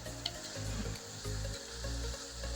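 Carrot halwa with khoya frying in a pan, a soft steady sizzle with faint stirring scrapes, close and low in level, no talking.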